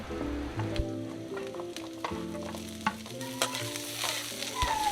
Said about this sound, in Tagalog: Stir fry for about a minute.